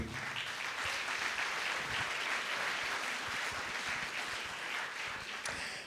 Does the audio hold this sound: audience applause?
yes